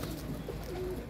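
A domestic pigeon coos softly in short low notes, fairly faint against a quiet background.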